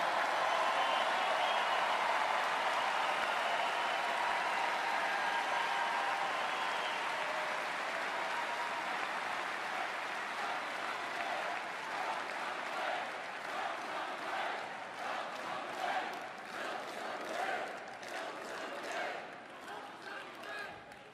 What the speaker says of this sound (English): it is so nice to hear you cheering for what I just said